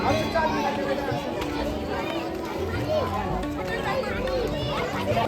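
A dense crowd mills around Bagnath temple during a bhandara community feast, with overlapping chatter and children's voices forming a constant close hubbub throughout.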